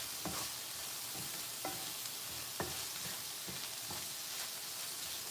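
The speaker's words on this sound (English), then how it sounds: "Give this a quick little stir." Chunky pasta sauce stirred in a sizzling pan, with a steady bright sizzle beneath repeated soft scraping strokes of a spoon, close and continuous, no voices.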